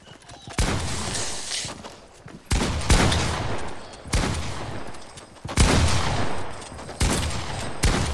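Pump shotgun blasts in Fortnite, about six loud booming shots spaced roughly a second apart, each with a sharp attack and a short decaying tail.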